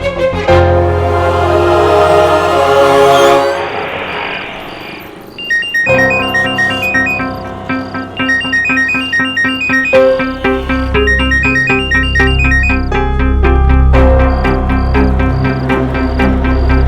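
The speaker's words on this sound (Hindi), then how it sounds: "फोन क्यों नहीं उठा रही?" A phone ringtone plays a repeating electronic melody with no one picking up, loud and close, the tune cycling on for many seconds in a Hindi TV drama scene.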